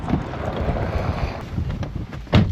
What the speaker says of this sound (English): the relentless battering from the wind and spray